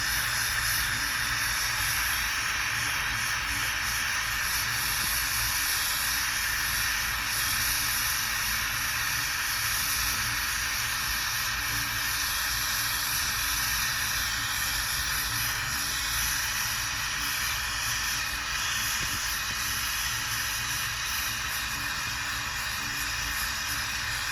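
A gas torch heats a stuck bolt on an old axe or pick head during restoration, a loud steady roaring hiss that holds unbroken and close for the whole stretch.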